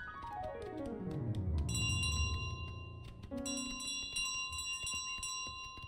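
Bells ring in Untitled Goose Game. A sustained chime with a falling tone gives way to bright, repeated metallic rings with ticking accents, loud and close, with no voices over it.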